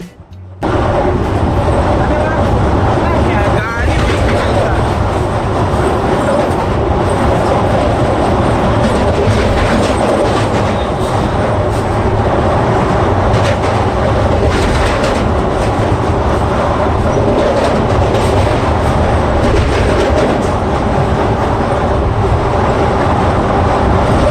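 A passenger train rumbling steadily at night as it crosses the Ganga river, a loud, continuous roar with rattling wheels and carriage noise that holds constant throughout.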